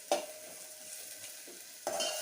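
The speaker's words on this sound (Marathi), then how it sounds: "थोडीशी परतून घ्यायची" Sautéing in a pan over a low gas flame while preparing a tangy-sweet kadhi with fritters; a soft, steady sizzle with scraping stir strokes at the start and end, fairly close and without talk.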